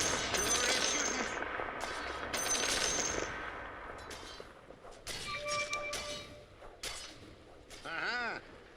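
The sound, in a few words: gunfire in a shooter video game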